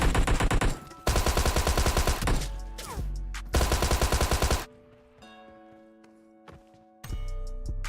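Close-range hip-fire bursts from an automatic weapon in PUBG, rapid loud volleys broken by short pauses, with the last few seconds turning quieter with game tones before another burst.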